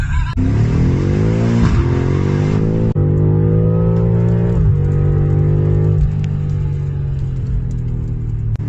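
A BMW M5 drives on a highway in Primorska, its engine loud and close as it accelerates through rising gear pulls with brief drops at each shift, a strong continuous roar with no talking.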